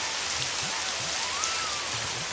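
Steady rain at night, a dense, even hiss of falling drops heard up close and unbroken for the whole short stretch, with faint low patter underneath.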